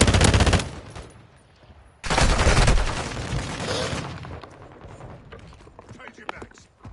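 Gunfire rattles in a military shooter video game, with dense bursts of automatic fire opening the scene and returning after a short lull. The shots are loud and close and then taper into scattered, fainter shots, and voices call out between them.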